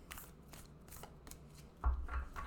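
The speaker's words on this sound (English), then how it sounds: "I find this to be very easily overhand shuffleable" A round Wild Unknown Archetypes tarot deck is shuffled overhand close to the microphone, giving soft, quiet papery flicks and brushing sweeps, with a slightly firmer pair of card slaps near the end.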